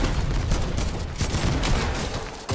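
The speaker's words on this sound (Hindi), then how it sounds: "वो फायर कर रहा" Rapid gunfire in the video game Fortnite, a dense, continuous rattle of shots lasting the whole clip, loud and close, with no voices over it.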